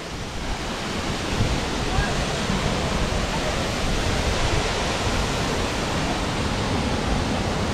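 A waterfall cascade in France pours in a steady, dense roar of rushing water, broad and continuous at close range with no pauses.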